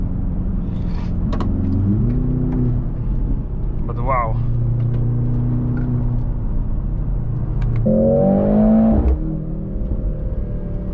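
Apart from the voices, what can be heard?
powerful car accelerating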